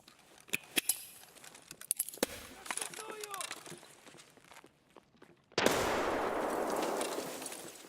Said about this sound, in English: My grenade.